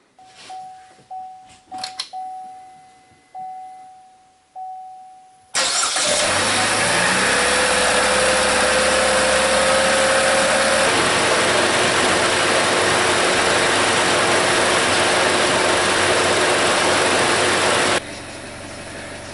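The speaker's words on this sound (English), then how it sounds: "So after letting the vehicle set for a while and just idle here" A 2017 Chevy Trax with a lean-running fault has several chimes first, then the engine cranks, catches and settles into a loud, steady idle, close up, with a brief rising whine early on.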